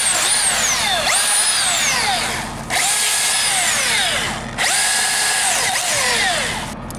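A chainsaw cuts a hinge notch into a tree during a tree removal, loud and continuous, its engine pitch swooping up and down through three long revving passes separated by brief dips.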